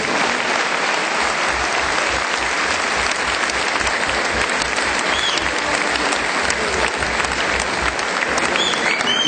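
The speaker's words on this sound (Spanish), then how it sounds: "vamos a rendirle un buen aplauso, un aplauso a los invitados" A crowd at a forum on pensions and retirement gives the invited guests sustained applause. The clapping is loud, dense and even for about nine seconds, with faint voices mixed in.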